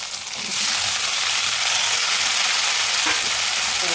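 Tomato added to lightly fried, salted onions sizzles in a pan. The hiss swells to a loud, steady crackle after a quieter start, with occasional soft stirring scrapes.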